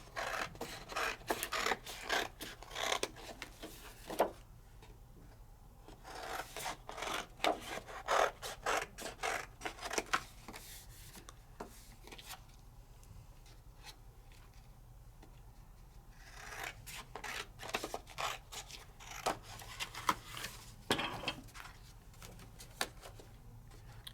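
Scissors cut through paper in an art studio during acrylic ink and watercolor work, a quiet run of close, crisp snipping and rasping strokes in several bursts separated by short pauses.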